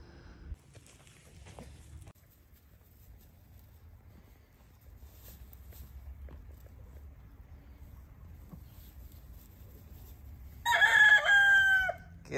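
Backyard chickens make soft, faint sounds under a low background rumble, and then a rooster crows loudly and close by for about a second near the end.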